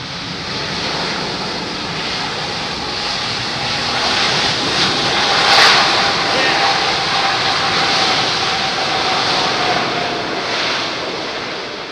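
An airliner lands on a wet runway at London Heathrow with reverse thrust, a loud broad steady roar and spray hiss that swells toward the middle and holds before easing slightly.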